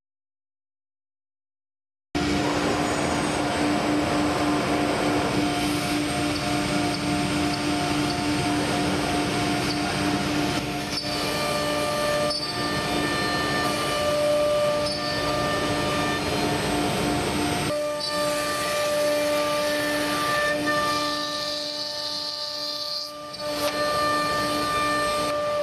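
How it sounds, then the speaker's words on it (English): A Thermwood CNC router runs steadily, cutting cabinet parts with a continuous loud mechanical drone and whine after a brief silence, shifting in tone at a few points, with no talking. "To run, just press Cycle Start on the machine control."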